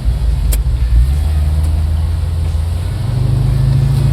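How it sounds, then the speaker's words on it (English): 1972 Pontiac LeMans pro-touring car with a Hurst shifter and 3,000 stall converter, put in drive and pulling away: a loud, steady low engine rumble close by that builds slightly toward the end. "So what we're gonna do is we're gonna go ahead and put it in drive, and let's do it."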